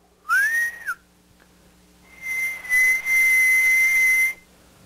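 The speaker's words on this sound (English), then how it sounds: "when I shout, when I make a whistle over here" A person whistles a clear pitch near 1 kHz in a large lecture room, first a short rising-and-falling note, then after a pause a long steady tone lasting about two seconds, loud and close with no speech.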